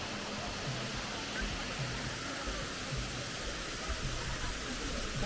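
Mawsawa Falls, a hidden waterfall in Meghalaya, India, gives a steady, even rush of falling water, soft and constant without breaks.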